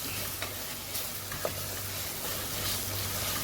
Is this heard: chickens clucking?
no